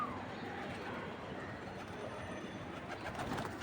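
Pigeons coo softly on a rooftop, a faint, low murmur under steady outdoor background noise.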